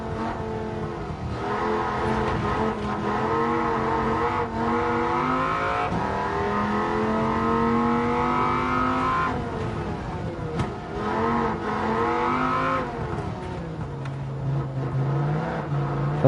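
Dodge Viper in Gran Turismo 7, an engine droning steadily throughout, with the pitch climbing through several gear changes, repeated upshifts and a dip as it settles, with no talk over it.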